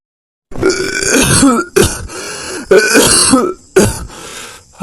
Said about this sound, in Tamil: அப்பா என்ன இருமல் ஒரே இருமலா இருக்கு